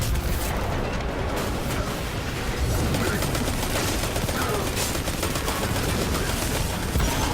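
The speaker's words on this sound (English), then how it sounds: "I'm pretty sure I shot at it more than once" Sustained gunfire from a gun in the video game Destiny 2: dense, continuous volleys of shots with a steady heavy rumble, loud and close throughout.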